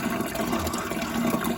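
Water gushing steadily into a watering can outdoors in a vegetable garden, a continuous splashing, rushing fill heard up close with no talking.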